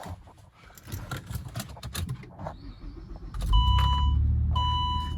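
A car is taken on a short test drive after all-wheel-drive service on its Haldex system. Road and engine noise swells as it gets moving, and a couple of electronic beeps chime from the cabin.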